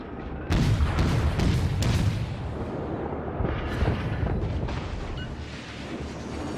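Naval combat in World of Warships: a heavy booming barrage with rumbling impacts as a ship takes hits, loud at first, then settling into a lower, rolling roar of distant blasts and crackle.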